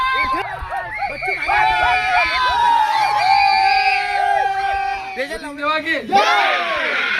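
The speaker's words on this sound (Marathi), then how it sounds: "सिक्स मारला आहे आणि पाहू शकतील जल्लोष जल्लोष आहे फायनल मारण्याचा जल्लोष" A crowd at a local cricket premier league match on a muddy ground erupts after a winning six, with loud overlapping cheers, whoops and shouts sustained throughout and rising again toward the end.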